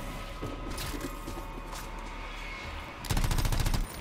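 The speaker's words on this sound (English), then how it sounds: "I like the little light machine gun." A light machine gun fires in an Anthem shooter battle, rapid chattering bursts under steady game noise, with a louder, dense stream of shots near the end.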